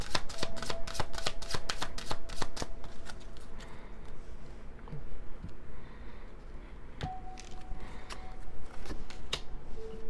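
Angel therapy oracle cards are shuffled in quick, crisp riffling bursts close up, with softer card handling and taps continuing between the bursts.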